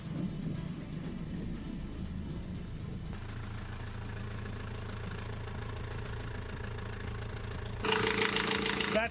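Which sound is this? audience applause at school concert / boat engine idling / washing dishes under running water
boat engine idling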